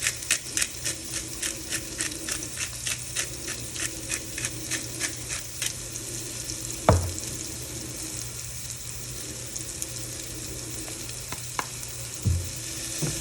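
Chopped jalapeños, scallion whites and garlic fry in a hot pan with a steady close sizzle, broken by rhythmic scraping strokes of stirring early on and a couple of sharp utensil knocks later.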